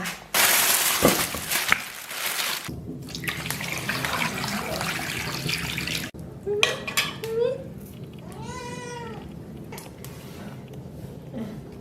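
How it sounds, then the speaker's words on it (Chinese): Cow hooves are washed in water in a basin, with continuous splashing and sloshing plus clattering knocks against the container. A brief high, meow-like cry rises near the end. "牛蹄子多洗几遍，再过一下水。"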